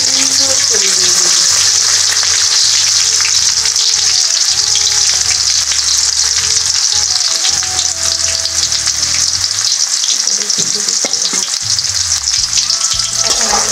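Chopped garlic and onion fry loudly in hot oil while being stirred, a dense, unbroken sizzle with intermittent scraping and a faint voice now and then.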